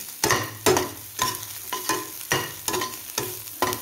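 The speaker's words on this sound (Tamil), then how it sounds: "பெருங்காயம் பூண்டு நசுக்கின பூண்டு கருவேப்பிலை போட்டு தாளிச்சிக்கலாம்." Asafoetida, crushed garlic and curry leaves hit hot oil for a tempering while preparing ivy gourd pachadi, giving bursts of loud sizzling and crackling with stirring, in repeated surges about every half second, no talking.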